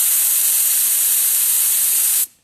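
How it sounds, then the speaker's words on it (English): Air hissing steadily and loudly from a Grit Performance tire deflator with its valve core unscrewed a couple of threads, a strong, bright, continuous rush close by that cuts off abruptly near the end. "I'm going to unscrew this. Just a couple of threads. Listen to the difference."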